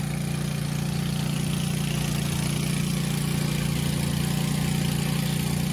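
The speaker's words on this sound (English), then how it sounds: "We're just pumping oil away." A steady, droning engine runs an engine-driven pump moving waste oil into a barrel, an even low hum with no breaks throughout.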